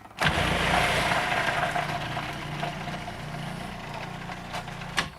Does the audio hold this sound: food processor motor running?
yes